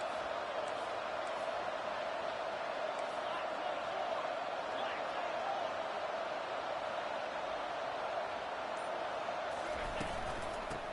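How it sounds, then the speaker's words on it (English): A college football stadium crowd in a video game, Tennessee against North Carolina, gives a steady, dense roar that stays at an even level from start to end with no breaks. "this crowd is fired up. Listen to this noise here."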